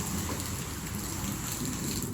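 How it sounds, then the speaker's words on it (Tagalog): Heavy raindrops patter steadily outdoors in a dense, even hiss of rain on surfaces, moderately loud and continuous with no voices. "umaambon-ambon kaya malakas yung patak ng ulan"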